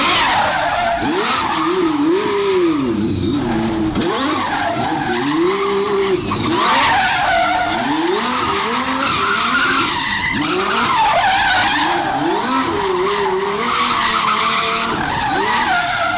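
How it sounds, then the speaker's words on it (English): A twin-turbo Ferrari V12 doing donuts: continuous loud tire squeal and skidding over a wailing engine note that rises and falls as it circles, close by and unbroken, with no talk. "Have you ever seen a car do donuts?"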